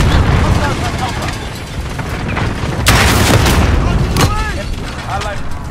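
Precision airstrike explosions in Call of Duty Ground War: heavy booming blasts burst out over a rumbling battlefield, with faint voices talking in the background.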